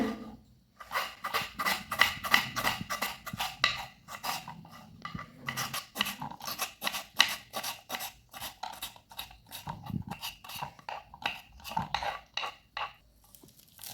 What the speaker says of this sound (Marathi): टोमॅटो पण बारीक चिरून घेऊया